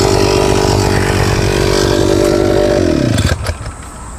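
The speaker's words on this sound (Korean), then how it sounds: "일단 시동 끌게요" Gas-powered weed trimmer engine running loud and steady, then abruptly cut off, its pitch dropping as it sputters to a stop, leaving a quieter background.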